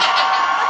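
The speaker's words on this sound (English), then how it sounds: "Watch how many people cheer as I get older." Audience cheering and whooping from a crowd at a live concert, a dense, loud, continuous wash of voices sustained throughout.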